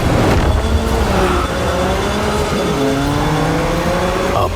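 A BMW M4 Competition drives past, its engine note rising and falling in steady revving sweeps, loud and close with a brief tire squeal, no voices.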